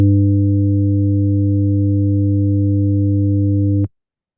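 A steady 100 hertz tone with added harmonics, a loud buzzy sustained drone held evenly for nearly four seconds before cutting off abruptly into silence.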